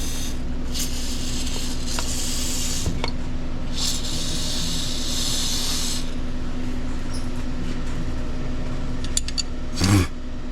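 Penetrating lubricant sprayed onto broken exhaust manifold bolts, in two short hissing bursts at close range over a steady low hum, followed by a few faint metallic clicks and a brief clunk.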